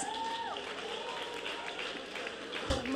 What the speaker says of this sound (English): Round of applause for your senior council officers, please.